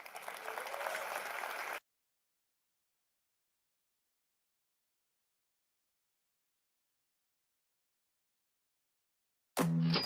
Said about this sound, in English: Give you all a round of applause for coming.